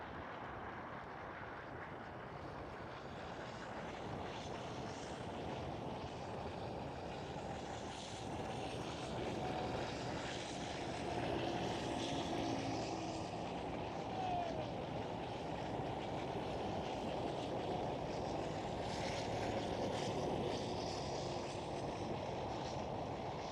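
A Singapore Airlines Boeing 747 at Amsterdam Schiphol gives off a steady, fairly distant jet engine roar that swells slightly midway and holds for the full stretch, with no talking.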